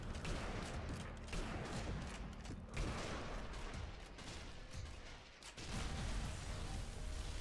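Dense gunfire and weapon mechanisms from the zombie shooter video game Zombie Army Trilogy, a loud, continuous fusillade of rapid shots that barely lets up across the whole stretch.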